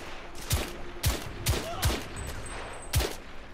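Rifle gunfire in The Order 1886 video game, five loud, distinct single shots spaced irregularly about half a second to a second apart, each with a deep thump and brief echo over a steady background hum.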